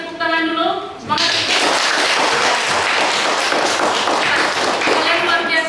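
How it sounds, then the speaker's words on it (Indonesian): A classroom of students breaks into applause after a brief voice, a dense, sustained burst of clapping that carries on steadily to the end. "Kita beri tepuk tangan dulu."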